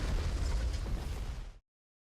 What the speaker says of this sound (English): Also, check out this ammo detonation.